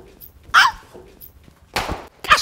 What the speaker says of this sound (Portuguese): Segura essa cachorra aí, Júnior!